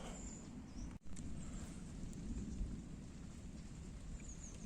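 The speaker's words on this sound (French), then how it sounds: "il commence à pleuvoir" Steady, faint rain falls outdoors at a carp fishing spot by the water, a soft continuous hiss of drops with a low rumbling background and one brief dropout.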